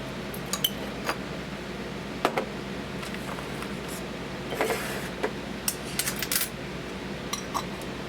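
Wild rice and seasonings dropping into glass canning jars, giving a scatter of light clinks and rattles against glass at irregular intervals, including one busy cluster, close by over a quiet room hum; no speech.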